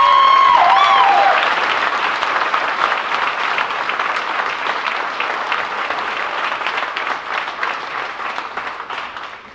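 A large audience applauds at an event honoring an American hero, loud at first and gradually tapering off over several seconds, with a brief voice at the very start.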